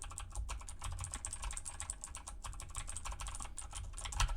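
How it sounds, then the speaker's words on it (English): Rapid, steady clatter of a mechanical keyboard typed on from behind the microphone, dense even keystrokes filling the whole stretch with no voices. "Keyboard test going in 3, 2,"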